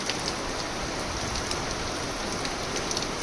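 Heavy rain pours down steadily over a village in Rajkot district, Gujarat, a dense, continuous hiss of drops hitting surfaces with no pause throughout.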